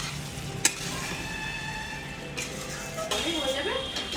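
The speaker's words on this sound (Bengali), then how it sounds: "এর মধ্যে এবার ভাজা আলুটা দিয়ে একটু সিদ্ধ করে শেষে মাছটা দেবো। এই যে ভাজা আলুটা দিয়ে দিলাম" Fried potatoes go into a pan of simmering, thick-spiced fish curry, bringing sizzling and stirring with a sharp clink of a utensil against the pan and a louder burst of frying near the end.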